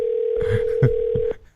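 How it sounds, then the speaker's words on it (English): A steady, loud telephone dial tone hums continuously while a call is placed, broken by a few soft clicks and knocks, then stops abruptly near the end. "Calling Roger Butt."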